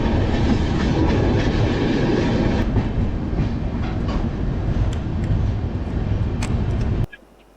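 Visakhapatnam to Araku Vistadome passenger train running on the hill line, a loud, steady rumble of wheels on rails with faint clicks throughout, cutting off abruptly near the end.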